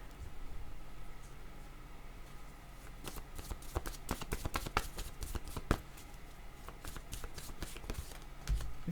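A deck of cards is shuffled by hand before a card is drawn, a quiet hiss that turns into rapid riffling bursts midway, close and without talk.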